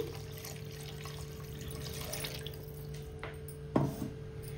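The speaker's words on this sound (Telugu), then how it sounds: "ఇప్పుడు మనం వాటర్ వేసేసుకుందాం." Water goes into a simmering paneer butter masala curry, a faint liquid trickle in a quiet kitchen, ending in one short splash near the end.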